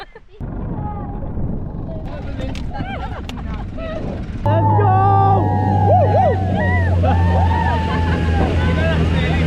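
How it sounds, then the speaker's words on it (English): A Vietnamese-style homemade tractor sidecar engine starts up and chugs along loudly with a steady low throb, while people talk and shout over it. "This is our ride back. It's a tractor."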